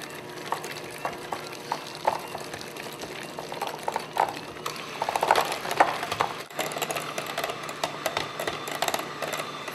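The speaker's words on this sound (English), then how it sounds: "I'm just going to beat those up until it's nice and creamy" An electric mixer beats cream cheese, sugar, milk and vanilla into a crepe filling, giving a steady whirring churn with irregular clicks and slaps of the beaters, close up, with no talk.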